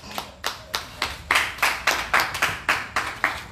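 Congregation in a church service clapping in unison, about a dozen crisp, evenly spaced claps in a steady rhythm, close and clear with no talk over them.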